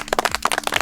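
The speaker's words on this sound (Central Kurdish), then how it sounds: "یەک چەپڵە بۆ ستایش" A small group clapping in praise for a young child in Basne village, a quick run of sharp, close handclaps about eight in under a second, fairly loud and with no voices over them.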